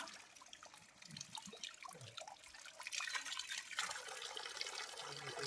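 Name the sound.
water being collected in a bottle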